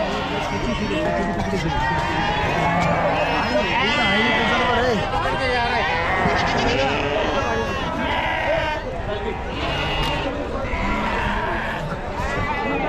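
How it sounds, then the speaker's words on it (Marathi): Nashik sheep bleat repeatedly amid a noisy crowd of sheep and goats at the Chakan livestock market in Maharashtra, with people talking loudly throughout. "हे नाशिकचे मेंढे आहेत"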